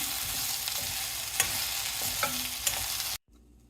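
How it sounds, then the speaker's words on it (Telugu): Okra (bhindi) stir-frying in a pan for a Rayalaseema-style sour okra curry, a steady close sizzle with occasional scrapes and clinks of a spatula against the pan, cutting off abruptly near the end. "మళ్ళీ తీసేసి ఒక రెండు మూడు సార్లు బాగా వేగేంత వరకు వేయించుకోవాలి ఇలా బాగా వేయించుకోవాలండి"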